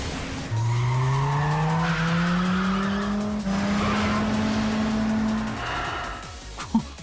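Race car at full throttle in the Yakuza 5 video game, engine revving loudly and climbing steadily in pitch, with tire squeal through a corner and a thud near the end.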